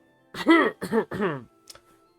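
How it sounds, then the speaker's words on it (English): A light cough into a closed fist, a short soft throat-clearing burst of two or three voiced pulses followed by a faint trailing breath, close and alone. "You cough lightly into a closed fist."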